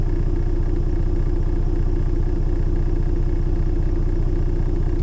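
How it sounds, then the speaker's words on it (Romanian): A truck's diesel engine idles steadily while warming up, a low continuous rumble with a faint regular pulse, close by and unchanging throughout, with no talk. "Am dat drumul la motor să se încălzească puțin și motorul"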